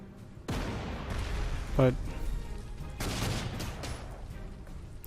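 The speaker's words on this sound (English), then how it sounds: "that's artillery?" Artillery fire in the World War II strategy video game Panzer Corps 2, a few sharp booming blasts with short rumbling tails, quiet and spaced apart, with a brief spoken word.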